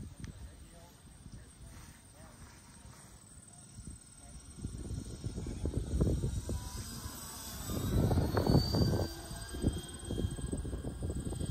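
An RC model Grumman Goose flying boat glides with throttle off, a soft rushing airflow and faint motor whine growing louder as it passes, with someone talking over it.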